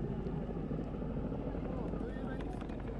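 A helicopter films a 24 km rally stage in Afyonkarahisar. Its dense rotor and engine roar stays steady and loud the whole time, with a voice talking under it.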